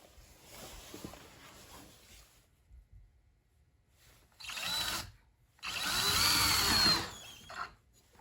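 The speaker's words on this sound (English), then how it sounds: "we're gonna be pre-drilling holes here for our super nice screws, lag bolts" A power drill bores pilot holes for lag bolts while building an outdoor sauna shower, coming in short whirring bursts with pauses between, the longest near the end, fairly close.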